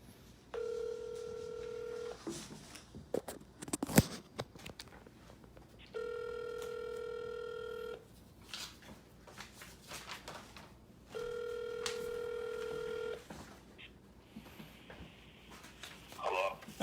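A telephone ring tone on a speakerphone call during a fantasy football draft broadcast repeats in three long electronic rings with pauses between, clear and moderately loud, with a few clicks and bumps in the gaps.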